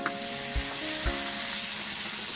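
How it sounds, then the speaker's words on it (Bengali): A paste of ground coconut, poppy seeds and green chillies fries with potatoes and onions in a pan for prawn posto, a constant crackling sizzle broken by two soft knocks of stirring. "ভালো করে নেড়ে চেড়ে মশলাটাকে ভেজে নিচ্ছি"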